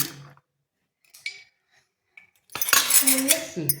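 A spoon and metal dishes clink in a home kitchen: a few light taps early, then a louder burst of scraping, clattering tableware near the end.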